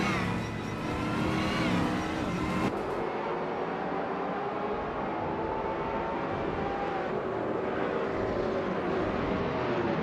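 A 2001 Chevrolet Camaro race car launching in a racing video game, its engine roaring loud and steady as it pulls away, with layered engine drone continuing throughout.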